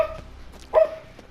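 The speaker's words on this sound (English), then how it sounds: "That is my dog barking at my sleeping wife." An old dog barks indoors, two short sharp barks, the louder one near the middle, heard alone against a quiet room with a faint steady hum underneath.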